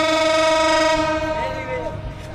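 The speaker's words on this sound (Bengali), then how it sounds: "হুইসেল বেজে গেল ঠিক ভোর 6টার সময়।" Banalata Express train whistle sounding at departure from a station platform at dawn, a loud sustained multi-tone horn held for about two seconds before fading, with station ambience beneath.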